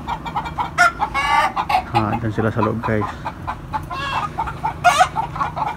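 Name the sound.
chickens clucking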